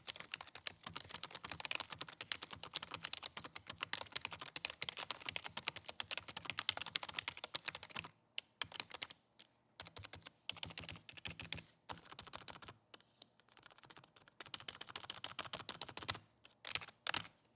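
Rapid, muted key presses in dense bursts with short pauses between them on a Roccat Magma membrane keyboard, close up and soft-edged rather than clicky.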